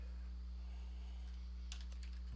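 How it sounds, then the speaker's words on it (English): A short flurry of computer keyboard keystrokes during data entry into an Access 2016 database, a few quick clicks over a steady low hum, close and fairly quiet. "let's say I'm going to type in"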